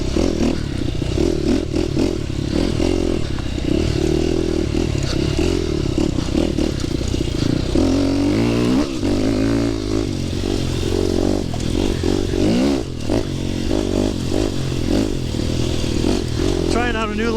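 An ORV ridden on a trail near Houghton Lake, Michigan, its engine droning steadily and loudly throughout with rattles and scrapes from the ride, while a voice talks over it.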